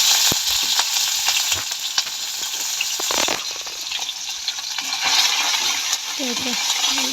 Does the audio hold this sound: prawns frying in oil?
yes